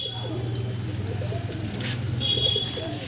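A female pigeon coos in soft, repeated low calls up close, with a steady hum and light chirps around it.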